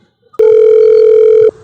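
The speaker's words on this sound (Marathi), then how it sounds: "फोन करतो त्यांना" A telephone ringback tone sounds while an auto-rickshaw driver calls a customer: one loud, steady electronic beep lasting about a second, starting and stopping abruptly after a brief quiet lead-in.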